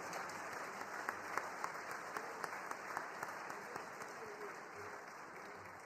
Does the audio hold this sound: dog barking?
no